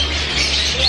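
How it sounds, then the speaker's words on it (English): An umbrella cockatoo gives a single harsh, loud, drawn-out squawk close by, filling the short moment with raspy noise. "Umbrella cockatoo."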